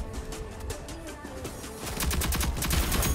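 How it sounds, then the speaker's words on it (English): Gunfire in the shooter game Rogue Company crackles in rapid bursts, faint at first and then growing denser and louder toward the end, with a voice briefly audible. "I'm getting shot from left and right."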